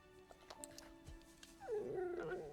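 A dog in the animated film Anastasia whimpers and yips, a few short high cries followed by a longer whining call, close and moderately loud over quiet background.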